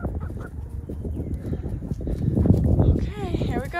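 Backyard chickens cluck and call around feeding time, close by and fairly busy, with a voice talking over them.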